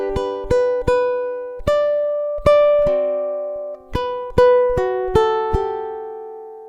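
A ukulele plays measures 17 and 18 of a song, a slow run of about a dozen clear plucked notes and chords, each ringing out and decaying, with no talk.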